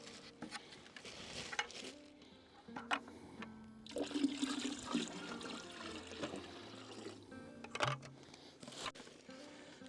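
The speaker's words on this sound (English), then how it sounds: "So let's sit down and pour this out." Birch sap in Newfoundland pours out of a full bucket in a continuous, gurgling stream with splashing surges, close by and fairly quiet.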